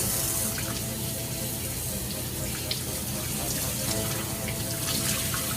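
A tap runs steadily over dyed cotton fabric being rinsed in a sink, producing a continuous close splashing hiss with faint drips throughout and no talk.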